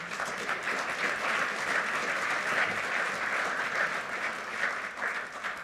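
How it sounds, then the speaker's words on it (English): A lecture-series audience applauds steadily, a dense, even wash of many hands clapping at once that holds for several seconds at moderate loudness with no voices over it. "That's an applause line."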